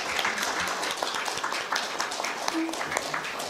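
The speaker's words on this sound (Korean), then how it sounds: "훌륭한 발표와 토론을 해주신 발표자와 토론자분들께 뜨거운 박수 부탁드립니다." Audience at a judicial policy symposium claps for the presenters and panelists, a dense patter of many hands at moderate volume with some voices mixed in.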